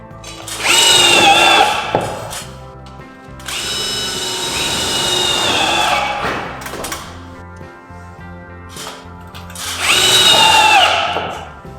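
Power drill driving screws through Tuilacier steel roof tile sheets: three loud, close bursts of high whining motor and grinding bite, each lasting a few seconds, with brief quiet gaps and small clatters between.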